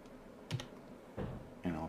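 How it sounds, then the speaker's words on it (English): A few separate keystrokes on a computer keyboard entering shortcut keys while working in Blender, three distinct taps spaced apart over a quiet background. "I'll type period to zoom in, and G, and then Y to move it up along the Y-axis"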